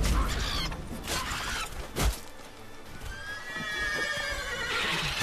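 Roach, a horse in The Witcher 3, neighs loudly with a shrill whinny among game sounds, hooves and movement noise continuing underneath.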